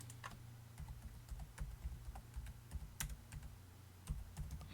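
Keys clack in quick, irregular bursts on a computer keyboard while someone types, heard fairly close over a low steady hum, with no one speaking.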